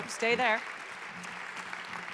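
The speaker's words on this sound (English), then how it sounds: "Can we just give Robert a huge round of applause" An audience at an award ceremony applauds for Robert with a steady wash of clapping that follows a short spoken phrase at the start and continues evenly to the end.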